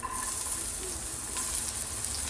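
Onion hits hot oil in a pan for bhurji, giving a continuous loud frying sizzle and hiss that runs throughout without pause.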